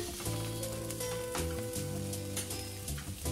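Red and yellow bell peppers (capsicum) hit hot oil in a frying pan for a Chinese vegetable stir-fry, giving a steady close sizzle with soft stirring clatter underneath and no voices.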